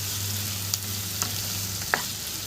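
Chopped green capsicum frying in a pan over a low flame, a steady soft sizzle broken by three brief stirring clinks, no talk.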